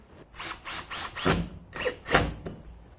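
A screw driven into a pre-cut timber piece for a pegboard tool holder frame, heard as several short bursts of whirring driver noise with gaps between, close and fairly quiet, no talk.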